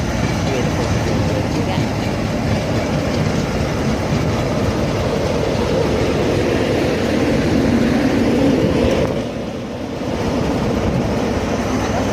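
A Class 320 electric train passes at Peterborough on the East Coast Main Line. A loud, continuous rumble holds steady for about nine seconds, then briefly dips and swells again.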